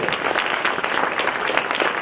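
Warm applause from a theater audience at a play premiere in Teatr Witkacego, dense steady clapping filling the room, close and sustained without pauses.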